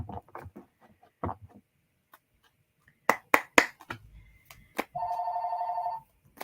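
A telephone gives a short electronic ring lasting about a second, coming after scattered taps and knocks in an otherwise quiet room.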